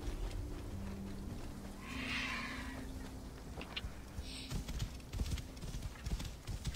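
Rapid hoofbeats of a horse in Assassin's Creed Origins gallop steadily, with a snort or whinny partway through and sharp clatters near the end.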